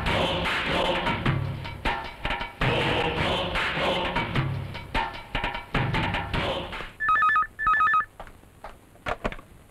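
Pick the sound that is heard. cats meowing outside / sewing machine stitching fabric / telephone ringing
telephone ringing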